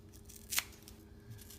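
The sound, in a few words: scissors cutting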